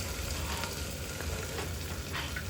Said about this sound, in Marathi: हे थोडंसं आता तेलात परतून घ्यायचं छान असं तेलात परतून घ्यायचं